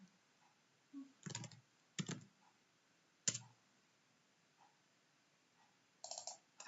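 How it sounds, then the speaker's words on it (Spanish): Quiet computer keyboard keystrokes in short separate bursts, a few clicks then a final press of the Enter key, close and soft in a silent room. "Le damos al Enter y ya tenemos la tarea creada."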